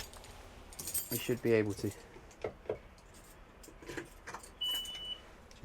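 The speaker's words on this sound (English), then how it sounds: "Just grab the door keys." A set of door keys jingles in short bursts aboard an Axopar 28 Cabin boat, a light metallic clinking close by, with people talking over and between the jangles.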